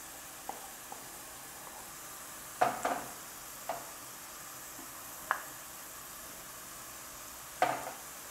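Coriander paste hitting chicken frying in a pan, then stirred; a quiet, steady sizzle with a few sharp scraping and clattering stirs spaced out over several seconds.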